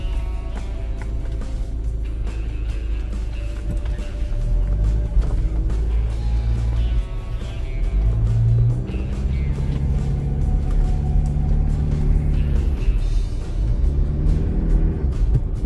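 Toyota Land Cruiser Prado, fitted with new engine mounts and a new starter, pulling out of a workshop with a low, steady engine rumble that swells as it accelerates, with light clanks and road noise throughout.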